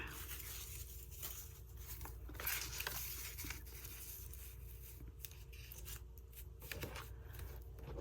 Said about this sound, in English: We'll trim it right there.